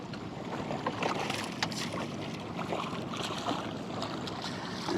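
A fishing boat's outboard motor runs steadily in gear while trolling for white bass, a continuous near drone mixed with water and wind noise, with no talking.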